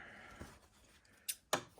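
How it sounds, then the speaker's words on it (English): Zipper scissors snip through the end of a zipper on a sewn bag: a soft cut followed by two sharp, close crisp snips, with no talking. "zipper scissors and trim that off"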